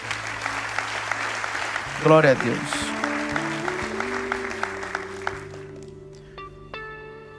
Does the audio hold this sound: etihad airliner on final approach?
no